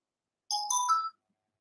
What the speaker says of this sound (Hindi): किसी लड़के का फोन आ